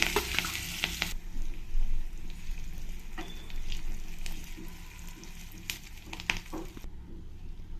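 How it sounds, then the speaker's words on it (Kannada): Mustard seeds, chopped onion and curry leaves sizzle and crackle in hot oil for a village-style tempering, a steady close frying hiss with sharp pops and spatters scattered throughout, no voices. "ಸಾಸಿವೆ ಸ್ವಲ್ಪ ಸಿಡಿತಿದೆ"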